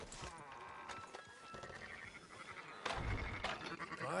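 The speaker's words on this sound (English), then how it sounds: "Fine sheep." Sheep in a PS4 video game bleating a few times at low level over clip-clopping hooves and game ambience.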